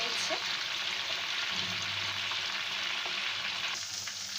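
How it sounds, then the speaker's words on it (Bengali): Chicken and potato pieces frying in a pan while being stirred and turned, a steady moderate sizzle with soft scraping, no one speaking. "এগুলো আস্তে আস্তে ভালো মতো ফ্রাই হতে থাকুক। এই যে আমার আমি এগুলো নাড়িয়ে ছড়িয়ে নিচ্ছে"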